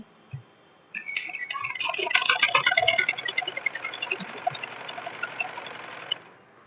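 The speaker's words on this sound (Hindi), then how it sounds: "अब इसको हम फोल्ड करेंगे। फोल्ड करके डोरी, चौड़ी डोरी की तरह से सिल लेंगे।" A sewing machine stitches a folded fabric strip into a wide cord for a blouse, a fast steady mechanical whirr and ticking that runs for several seconds after a brief knock, then stops abruptly.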